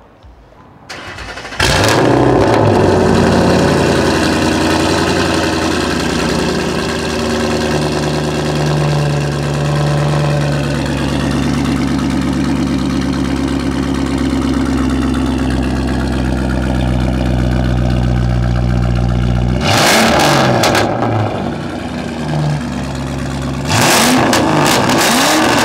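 A 2018 Ford F-150 XL two-wheel drive with the 5.0 V8 cranks up and settles into a loud, close idle with throaty revs, cuts off, then fires up again near the end.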